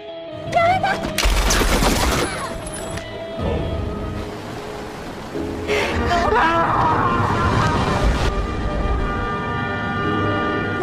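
Gunfire in a Battle Royale film scene: loud, rapid bursts of automatic shots in two long volleys, mixed with shouting voices and background commotion.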